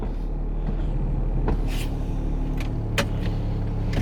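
A car creeps forward in drive after a rear brake adjustment, a low idling rumble close by with a few sharp clicks and knocks over it.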